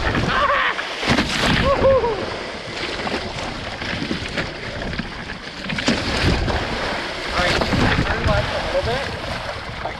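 A Hobie 16 catamaran sailing at about seven knots, bouncing through waves in wind with steady rushing water, hull slaps and wind noise, and voices faintly mixed in.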